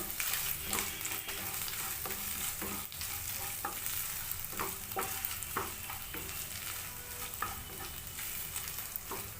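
Fresh grated coconut and other ingredients for coconut rice with sweet corn sizzle softly in a pan while a spoon scrapes and stirs in a repeated rhythm, close and fairly quiet, with no talking.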